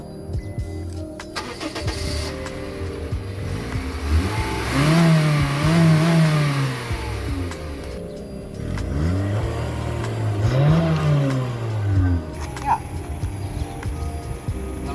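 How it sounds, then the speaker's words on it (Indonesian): A 2014 Honda Freed 1.5S engine cranks and catches, then revs up twice in rising and falling surges before settling back to a steady idle, loud and close throughout. "Sebelum diakhiri videonya, kita nyalakan dan kita gaspol."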